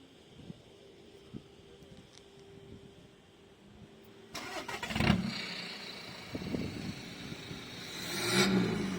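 After a quiet stretch with faint knocks, the 1.6 diesel engine of a 2014 Audi A3 automatic cranks and catches, then idles roughly with a couple of revs rising near the end.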